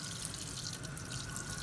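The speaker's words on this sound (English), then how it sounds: "What I want to do is rinse that out really good" Tap water runs steadily while a glaze container is rinsed out in a sink, a constant hissing splash with no pauses, close and moderate in level.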